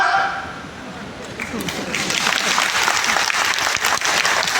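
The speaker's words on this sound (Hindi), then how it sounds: "ताली जोर से बजाओ।" Loud applause from an audience at a spiritual gathering, building after a quieter start into dense, sustained clapping that fills the room.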